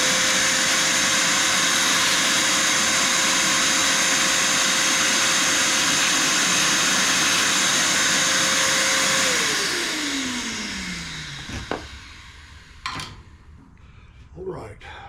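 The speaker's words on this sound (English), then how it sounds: "Let me hit that with the vacuum cleaner." A vacuum cleaner roars steadily up close while cleaning dust from the engine of a walk-behind mower, then winds down and shuts off, its whine sliding lower before a few clanks and handling noises follow.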